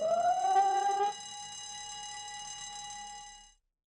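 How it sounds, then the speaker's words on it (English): A site evacuation alarm triggered from the weighbridge at a wood materials yard: a rising electronic wail sweeps upward for about a second, then settles into a steady high tone that holds before cutting off, heard alone. "an evacuation alarm will be triggered from the weighbridge, which sounds like this."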